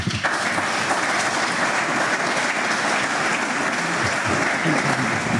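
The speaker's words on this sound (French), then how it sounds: "Un applaudissement et un triomphe pour Laurent Permas." A studio audience on a French talk show claps loudly and steadily for Laurent Permas, a dense, sustained burst of applause that fills the whole moment with no speech over it.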